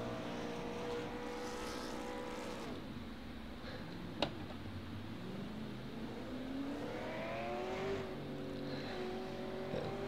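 Race cars in a racing video game lapping a track, several engines droning and whining with pitch rising and falling as they pass, a sharp tick midway, moderately faint and continuous without talk.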